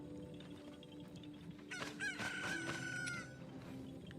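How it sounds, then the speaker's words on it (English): A chicken from Ocarina of Time crows and clucks in a short burst, a rough squawking call that rises over faint background ambience and then fades out. "That's the chicken noise from Ocarina of Time."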